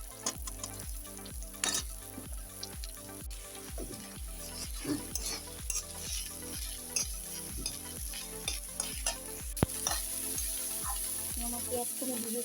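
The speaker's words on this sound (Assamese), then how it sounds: "পিঁয়াজখিনি দি পেলাই অকণমান এনেকৈ ভাজি ল'ম।" Sliced onions frying in a pan at home for a vegetable chorchori, a steady crackling sizzle with repeated stirring scrapes, no talking.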